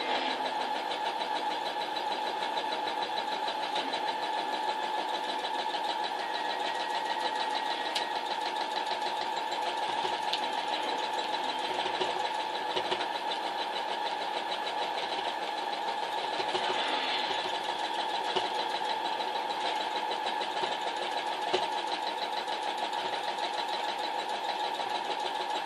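Sewing machine running continuously during free motion quilting on newspaper, a steady close mechanical whir and hum with no pauses, moderately loud.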